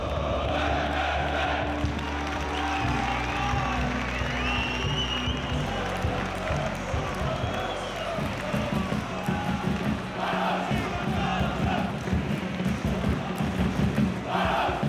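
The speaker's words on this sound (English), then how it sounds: "With 600 travelling supporters cheering them on, Randers kicked off their first competitive match in England" 600 travelling Randers supporters cheer at their club's first competitive match in England, against Leicester. The crowd noise is a continuous, rowdy roar with shouts and chanting voices, rising in swells over a busy stadium background.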